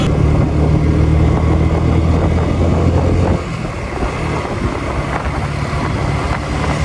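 A motorcycle engine drones steadily under heavy wind noise as the rider builds speed toward 80, then the engine level drops noticeably partway through.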